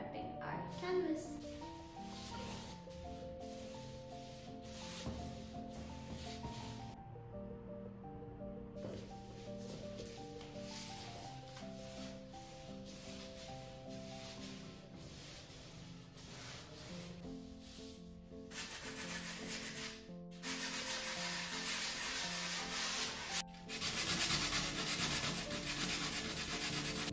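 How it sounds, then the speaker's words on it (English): Sandpaper rubbing over a gesso-primed canvas in rhythmic back-and-forth strokes, soft and steady for a long stretch, beneath background music. "then I'm going to sand the surface, which is extremely important to ensure an even surface"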